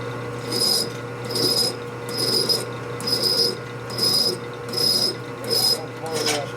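A wrench ratchets on a stubborn bolt during a 1967 Harley-Davidson 74ci Shovelhead FLH transmission rebuild, about seven evenly spaced clicking strokes, each a short burst of close, crisp pawl clicks over faint background hum.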